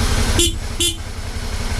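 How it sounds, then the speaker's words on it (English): Two short, bright motorcycle horn beeps from a Suzuki V-Strom sound in quick succession over a low, idling engine rumble. "Let me just honk the horn"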